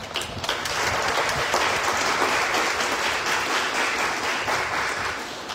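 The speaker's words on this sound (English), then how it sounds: "We can applaud ourselves." Steady applause from a church congregation fills the whole stretch, dense clapping that swells slightly and fades a little at the end.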